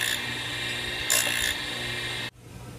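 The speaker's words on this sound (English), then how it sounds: "you just take a chisel and you take all those ridges off" A chisel scraping ridges off a small wooden part for a model of HMS Thorn, heard as a close, continuous rasping scrape with a brief louder stroke, then stopping abruptly.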